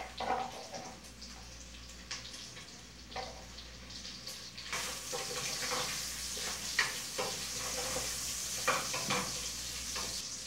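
Sausage frying in a pan with bacon, a steady close sizzle with occasional stirring scrapes that grows brighter and hissier halfway through as the fat heats, no talking.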